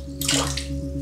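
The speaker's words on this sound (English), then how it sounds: "Wet the brush. It really does hold a lot of water" Tap water splashes briefly onto a shaving brush as it is wetted before lathering, a close, bright rush of running water lasting under a second.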